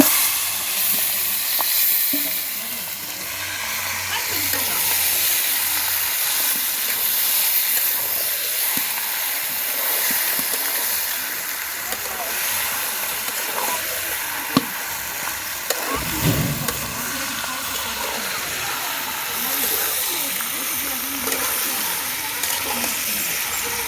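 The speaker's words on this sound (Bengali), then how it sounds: "তো এখন মাংসটা ঢেলে দেবো।" Marinated chicken sizzling in a wok for a Bengali chicken masala fry, a loud continuous hiss and crackle with stirring noises running throughout, close and unbroken, with no talk.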